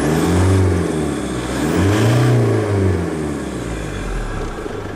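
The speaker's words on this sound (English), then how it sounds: "I'll press the accelerator, and you'll see the revs as well as the boost pressure increase" A turbocharged car engine revs up loudly, its pitch rising and falling in two surges before settling into a steady higher drone; no talking.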